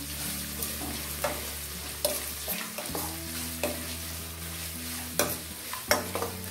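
Roasted peanuts fry in a little oil while being stirred for a mango rice gojju, with soft scraping strokes and a gentle steady sizzle, close and fairly quiet.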